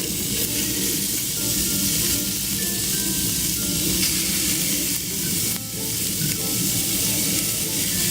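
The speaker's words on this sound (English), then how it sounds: "hear that sizzle. That's what we're looking for." Steak fillets sizzle steadily in hot oil, a loud continuous crackling hiss close up, with occasional stirring noises and no talking.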